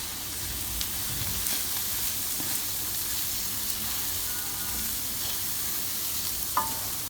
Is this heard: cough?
no